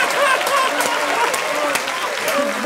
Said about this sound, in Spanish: No, vale, un aplauso para Juancito, que hace su mayor esfuerzo.